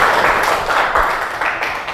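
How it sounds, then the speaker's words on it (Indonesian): A classroom of students clapping together in sustained, dense applause, fairly loud and steady for a couple of seconds with no break. "kasih dia tepuk tangan"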